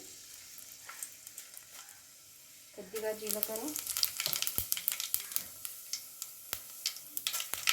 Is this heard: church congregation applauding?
no